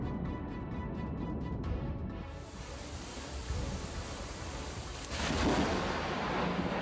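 Thunder from a lightning strike during a violent storm rolls as a deep, sustained rumble, swelling into a louder crash near the end, heavy and broad.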